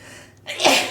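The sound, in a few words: sneeze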